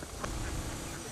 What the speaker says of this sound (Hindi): ये बत्तख है।